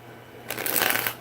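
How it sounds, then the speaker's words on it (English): A deck of tarot cards is riffle-shuffled up close, a dense fluttering burst of crisp card slaps that starts abruptly and runs for nearly a second. "One more shuffle."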